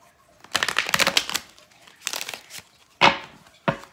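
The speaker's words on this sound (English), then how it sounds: "I'm going to shuffle one more time and then I will begin your reading." Tarot cards are shuffled nearby in several crisp, papery bursts, a long riffling flurry followed by shorter separate shuffles with quiet pauses between.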